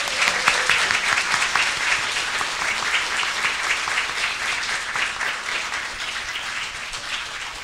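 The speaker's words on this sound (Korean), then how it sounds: "모두 우레와 같은 박수 부탁드립니다" A seminar audience in a Korean hall gives a dense, sustained round of applause for standing professors, a loud continuous wash of clapping that holds steady for several seconds.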